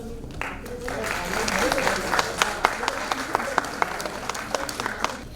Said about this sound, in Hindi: जोरदार तालियों से अभिनंदन।